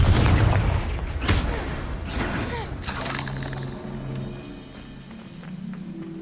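The Confringo explosive spell goes off in Hogwarts Legacy with sharp booming blasts and shattering crashes. A rumbling, clattering tail of debris follows under the game's ambient noise.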